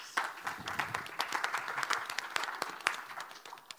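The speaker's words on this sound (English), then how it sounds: "Please give him a round of applause" Conference audience applauding a banking panel speaker, a dense, even round of clapping with sharp individual claps standing out, continuous from start to end with no talk over it.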